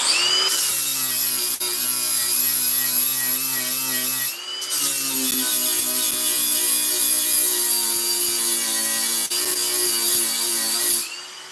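Angle grinder sanding metal smooth while working on a shed outdoors in the rain, a loud sustained whine with strong harmonics, running in two long passes separated by a brief pause.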